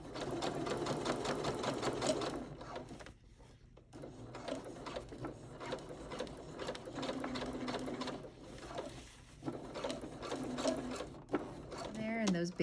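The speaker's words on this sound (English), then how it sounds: "I'll pin them together and then I'll stitch across here to close it" A sewing machine stitches a blazer seam at a 3/8 inch seam allowance, running in steady bursts of rapid mechanical chatter with short pauses between runs, close and moderately loud throughout.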